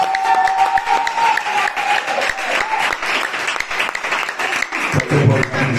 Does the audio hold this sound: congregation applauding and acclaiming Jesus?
yes